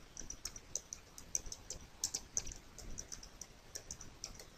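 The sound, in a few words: typing search text on computer keyboard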